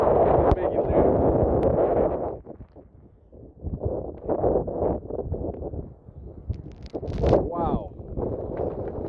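Strong wind gusts roar during Tropical Storm Henri's landfall in New London, Connecticut, a loud, sustained buffeting that rises and falls in surges, with a voice speaking over it.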